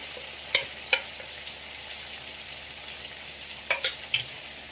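Ginger and green chili paste fry in a pan for a vegetarian jackfruit curry, an even, moderate sizzle broken by several sharp clicks and taps of a spoon against the metal.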